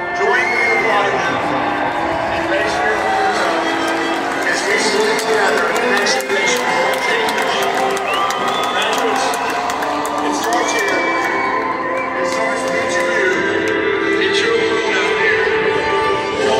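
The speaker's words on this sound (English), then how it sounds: "Join me in applauding them." Crowd at the University of Texas at Austin 2022 commencement ceremony applauding and cheering its graduates, a dense, loud, sustained roar of clapping mixed with whoops and shouts.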